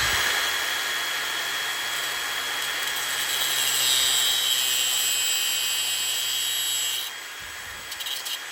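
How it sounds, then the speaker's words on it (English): Pin material pieces being cut to length on a saw in a metal shop, a steady loud high-pitched grinding whine that holds for about seven seconds, then stops and trails off into brief clatter. "We'll go ahead and cut 4 of these pieces"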